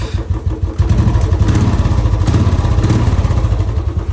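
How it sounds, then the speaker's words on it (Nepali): A motorcycle engine runs steadily up close, a loud continuous low rumble with some mechanical clatter, and no voices over it. "बाइकमा त खास साउन्ड त छैन नि"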